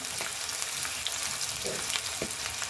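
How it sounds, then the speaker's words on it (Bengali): Bay leaves and garam masala hit hot oil in a pan for a new-potato dish, giving a loud, continuous close sizzle with faint stirring scrapes and no voices. "তেজপাতা গরম মশলা দিয়ে দিব গরম মশলাটা দিয়ে দিব"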